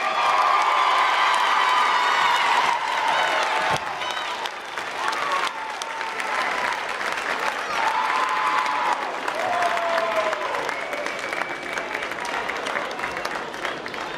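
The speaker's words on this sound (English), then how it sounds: "Let's give one more big round of applause for your all-tournament team." A crowd at a high school tournament game between the Clinton Dragons and Scott High School applauds and cheers steadily, loud and sustained clapping with whoops and shouts rising over it throughout.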